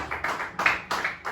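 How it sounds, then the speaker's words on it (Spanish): A church congregation claps in steady rhythmic bursts, about four clear claps in quick succession with a full, roomy sound and no talking. "Démosle un fuerte aplauso a nuestro Dios"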